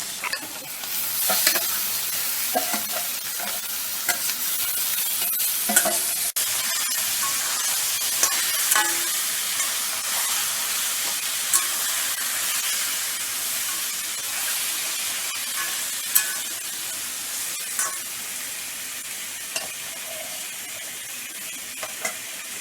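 Marinated mutton frying in spice paste for Bengali kosha mangsho, a continuous close, dense sizzle with occasional stirring scrapes and pops throughout, no talking.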